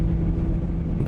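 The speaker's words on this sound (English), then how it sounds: "Oh, I can hear the engine growling a little bit." A train's diesel engine growls in Train Sim World on the Northern Trans-Pennine route, a steady low rumble that holds unbroken throughout with no voices over it.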